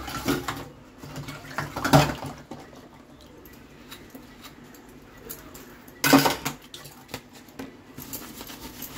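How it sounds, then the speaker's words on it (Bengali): A tiffin box being washed by hand, with a few sharp clinks of metal dishware around two and six seconds over a low, steady wash of running water and faint rubbing, fairly close. "tiffin box ধুচ্ছি"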